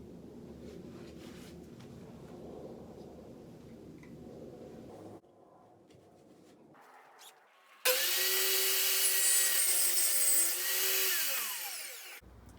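A table saw cuts up scrap wood pieces: low workshop noise and handling at first, then the motor spins up into a loud, steady whine with a cutting drone for about four seconds before winding down.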